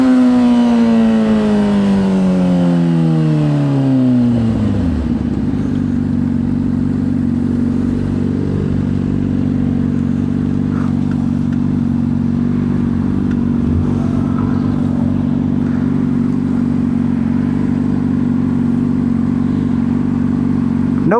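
A Honda CBR600RR motorcycle engine revs up and then drops back to a loud, steady idle that runs on close by.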